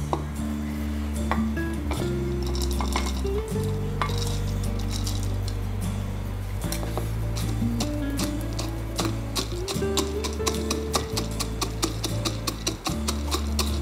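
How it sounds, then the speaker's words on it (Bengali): Fried peanuts pounded in a hamandista mortar and pestle give repeated sharp clinks and knocks, steady and close, over a continuous low tonal hum. "ক্রাশ করব আমি হামান্দ স্টাইল"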